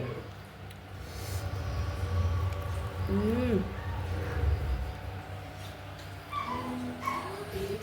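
Puppies whimper and yip in short, high cries, faint against background household noise and murmuring voices.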